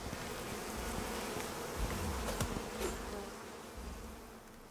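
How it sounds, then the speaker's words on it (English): Bees buzzing in the survival video game Icarus, a faint, continuous droning hum with small fluctuations and no speech. "Oh, I dislike those bees immensely."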